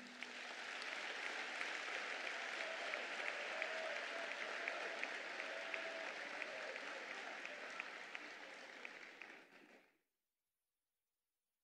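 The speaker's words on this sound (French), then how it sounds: "Je vous demande de les applaudir chaudement." Delegates at an extraordinary party congress of the PDCI-RDA in 2023 give warm, sustained applause, a thick roar of clapping from a large hall that runs steadily for about ten seconds before cutting off abruptly into silence.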